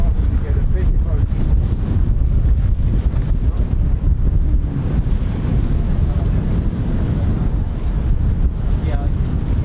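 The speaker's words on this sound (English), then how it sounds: "It's a bit breezy, isn't it?" Strong wind at an airfield buffets the microphone in a steady, loud, low roar that never lets up.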